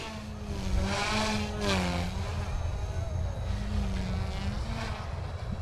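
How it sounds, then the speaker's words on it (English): A small Align T-15 RC helicopter flies in 3D mode, its rotor and motor giving a steady whining drone with rising and falling pitch sweeps, loud and near throughout with no talk. "It does have a decent amount of power for a little helicopter."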